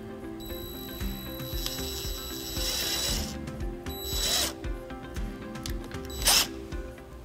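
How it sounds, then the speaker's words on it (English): A power drill bores a hole for a wiring harness bracket on a 2018 Mitsubishi Outlander, whirring in a few bursts with ratcheting, clicking mechanical noise between them, close and moderately loud. "we're going to drill a hole right here"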